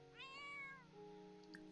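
A cat meows once in The Sims 4, a clear drawn-out call set against soft, tonal background game music, followed by a short quieter sound.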